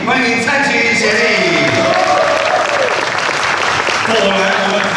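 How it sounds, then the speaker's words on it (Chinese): Loud, dense applause from a crowd welcoming a guest at a 3x3 basketball league event in Kaohsiung, sustained throughout while an announcer speaks over it. "热情的掌声欢迎我们的屋场的协理，欢迎蔡琴协理"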